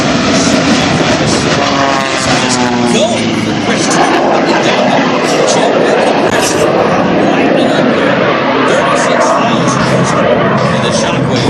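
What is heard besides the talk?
Shockwave jet truck racing at airshow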